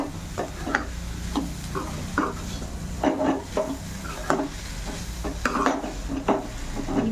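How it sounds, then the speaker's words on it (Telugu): A spoon repeatedly stirs and scrapes through a curry of kasarkai (bitter gourd) in a pan over a medium flame as dal powder and coconut powder are mixed in, giving a steady frying hiss punctuated by frequent sharp clinks and scrapes. "ఇప్పుడు పప్పుల పొడి, కొబ్బరి పొడి కూడా యాడ్ చేసుకొని మిక్స్ చేసేస్తున్నాం."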